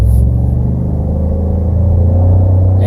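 Ford F150 EcoBoost V6 pickup truck, a 2017 model, accelerating, with a steady, loud, low engine rumble that holds strong throughout.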